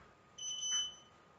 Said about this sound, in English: Even though you heard that timer